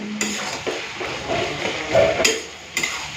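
A metal spoon stirs fish curry in a kadai, scraping and clinking against the pan in several uneven strokes close by, with a light sizzle underneath.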